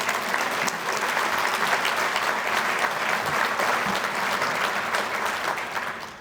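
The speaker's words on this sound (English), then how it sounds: "Please give our investors a big round of applause." Sustained applause from a large audience at a corporate annual shareholders' meeting, a dense steady clatter of many hands lasting several seconds before tapering off slightly at the end.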